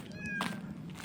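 A cat on a street in Sderot gives a short meow, faint and partly buried under outdoor background noise.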